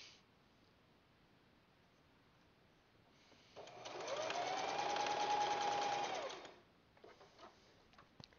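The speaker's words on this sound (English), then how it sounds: "Sunday's going to be a crafty day of just sewing a quilt." Sewing machine stitching a quilt, running alone in one steady whirring burst of about three seconds between quiet pauses, close and moderately loud in a quiet room.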